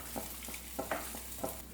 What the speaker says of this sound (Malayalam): ഇത് നമുക്കിതിലേക്ക് ഒഴിച്ചു കൊടുക്കാം. അതിനുശേഷം നന്നായിട്ടൊന്ന് മിക്സ് ചെയ്ത് കൊടുക്കാം.